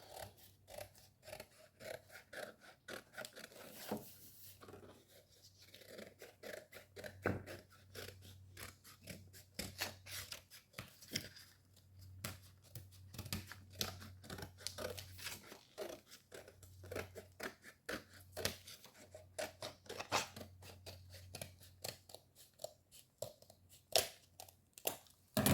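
Paper being cut with scissors for a handmade carousel craft, a long run of close, crisp snipping strokes in quick irregular rhythm, with soft paper rustling between cuts and no talking.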